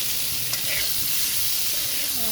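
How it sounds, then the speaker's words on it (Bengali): Hilsa fish head frying in spices and red chilli powder in a pan, stirred with a metal spatula: a steady close sizzle with soft scraping strokes, no talking. "আর এরকম খুন্তির সাহায্যে নেড়ে এখন ভাজা হয়ে গেছে যেহেতু মুখিটা"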